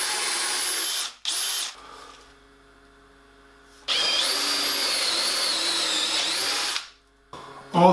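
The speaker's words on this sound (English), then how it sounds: "All the dowel holes are drilled" A power drill boring dowel holes into a wooden workbench whines loudly and close in two long bursts, with a quieter pause between them and a short restart at the end.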